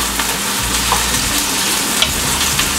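Pancit noodles fry and sizzle steadily in a pan as they are turned over and stirred, a continuous close crackle with occasional scraping, no talking.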